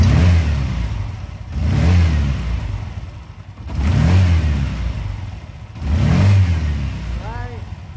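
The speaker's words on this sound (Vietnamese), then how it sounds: "Bây giờ tôi sẽ tiến hành lên ga này." A Yamaha motorcycle engine revved four times as the throttle opens, each surge rising then settling back to idle in a regular rhythm, close and loud.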